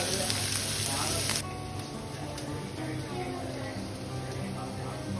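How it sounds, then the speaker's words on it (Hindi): Vegetables sizzle in a hot pan for a chicken tikka pizza, a steady close crackling hiss with voices in the background. "पैन गरम हो रहा है तो मैं बस इसके अंदर वेजीज डालूंगी"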